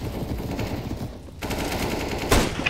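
Rapid automatic gunfire in CS:GO on the de_cache map, close and sharp, sounding in continuous bursts over background game noise.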